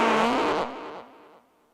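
A recorded fart with a delay effect added, a loud blast that repeats and fades away in echoing trails over under two seconds.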